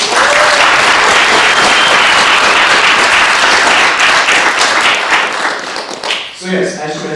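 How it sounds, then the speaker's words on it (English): Loud, full applause from an audience after a talk, many hands clapping steadily close by and then tapering off, with a voice starting to speak at the end. "let's give Rebecca a round of applause"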